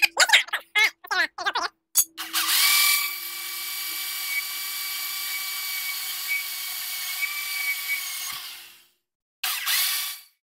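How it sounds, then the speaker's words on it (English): A Pronim Pro plasma drill with a 5/16 titanium bit bores a pilot hole for a Rough Country winch mount on a Mahindra Roxor, starting with short whirring bursts before a sustained high whine that cuts off, then a brief final burst. "Now he's drilling him a pilot hole here with a smaller diameter."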